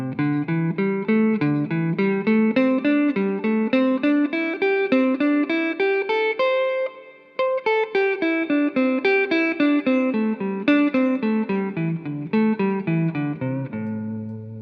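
Clean guitar plays a pentatonic scale sequence, climbing note by note up one string set and then starting again on the next, steady picked notes with a brief pause midway, played alone.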